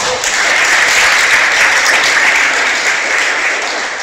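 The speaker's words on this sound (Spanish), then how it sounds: "Dale un aplauso." A congregation applauds during a sermon, loud and dense clapping that starts abruptly and holds steady for a few seconds, with no voices over it.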